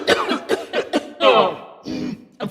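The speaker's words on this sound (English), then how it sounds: "it caused a coughing fit" A person breaks into a coughing fit, a rapid run of harsh, close coughs followed by raspy throat-clearing and strained breaths, loud and up front with no other sounds.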